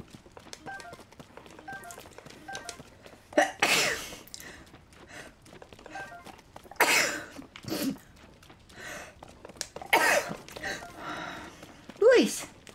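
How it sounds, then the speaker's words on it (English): Four abrupt sneeze-like bursts, sharp and breathy, break out at intervals from a person during a Tears of the Kingdom gaming session, with quieter voice sounds and small clicks in between. "sorry for all the sneezes"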